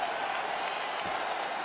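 Arena crowd at a UFC fight cheering and applauding at the end of a full 25-minute bout, a dense steady roar of clapping and shouting that fills the whole moment.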